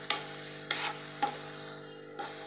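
Finely chopped green chillies and ginger paste fry in oil in a pan under a low, steady sizzle, broken by four distinct scraping stirs of a spoon spaced about half a second apart.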